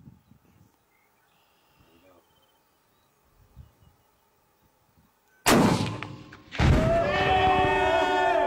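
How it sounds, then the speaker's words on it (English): A rifle shot sets off 42 pounds of tannerite packed into a 1998 Volkswagen Jetta, an outdoor blast that erupts after quiet moments with faint insect chirps, followed by a second loud boom and a long rumbling, ringing tail. "shooting a Volkswagen Jetta with 42 pounds of tannerite"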